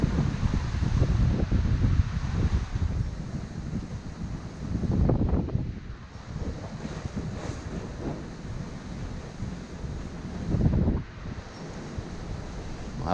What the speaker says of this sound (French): Au départ de Madère, ça souffle.